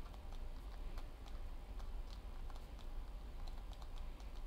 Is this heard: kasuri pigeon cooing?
no